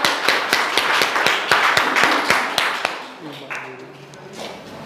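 A school audience at a class 10th and 12th result celebration breaks into quick, dense applause that fills the first three seconds, then fades as a steady tone and other sounds take over.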